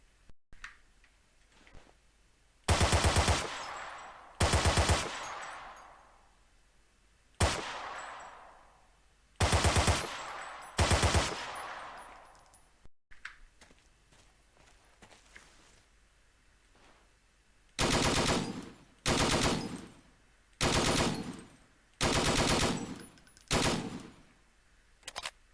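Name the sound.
guns firing in video game Battlefield 2 Forgotten Hope 2 mod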